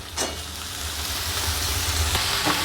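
Onion and tomato frying in a pan for a flat beans sabzi, giving a steady, close sizzle with a couple of brief stirring scrapes, no voices.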